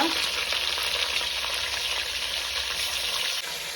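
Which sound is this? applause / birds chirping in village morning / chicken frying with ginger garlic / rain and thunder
chicken frying with ginger garlic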